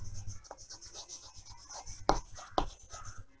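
A pen or marker scratching across a writing surface while a definition of dielectrics is written out, soft rubbing strokes with two sharper taps near the end, quiet and close with no talk.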